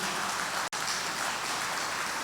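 A church congregation applauds during a sermon, a dense, even roar of many hands clapping that fills the room, with a brief dropout partway through.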